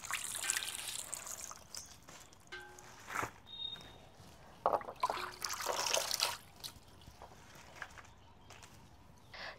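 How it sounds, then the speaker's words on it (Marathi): Spinach washed by hand in a bowl of water, soft intermittent splashes, swishes and trickles with quiet pauses between, faint and close. "चला आपण आता पालक धुवून घेऊया।"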